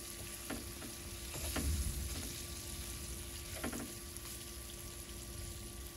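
Squirrel meat sizzles and fries in a pan over an outdoor rocket stove, a steady close crackle with a few stirring clinks and scrapes, and no talking.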